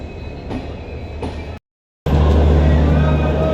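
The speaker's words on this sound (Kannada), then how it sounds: "ನಾವಾಗ ಟ್ರೈನ್ ಬಂತು." A train pulls into a railway station during a boys' trip to Murudeshwara, a loud, steady rumble of wheels and rail noise that cuts out briefly and returns even heavier and close by.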